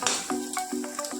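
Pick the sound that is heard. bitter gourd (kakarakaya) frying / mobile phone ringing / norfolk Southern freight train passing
bitter gourd (kakarakaya) frying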